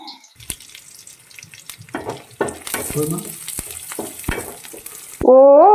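Dried red chilies and curry leaves sizzle and crackle in hot oil for chicken palipalaya, with scattered pops, stirring and clinks, then a sudden loud burst of frying near the end.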